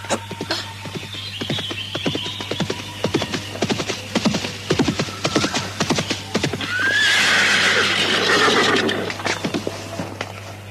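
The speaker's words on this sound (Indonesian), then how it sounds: "Penunggang kuda yang dikhawatirkan Ponsairah ternyata Bu Bulut yang datang membawa makanan" A horse arriving with a rider: a run of clip-clopping hoofbeats close by, then a loud, drawn-out neigh toward the end, over a low steady hum.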